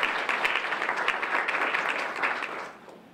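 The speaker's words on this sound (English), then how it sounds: "So let's have a round of applause for the Women's Center." An audience at a White Ribbon Day campaign breakfast applauds the Women's Center, a steady wash of many hands clapping at moderate loudness that tapers off toward the end.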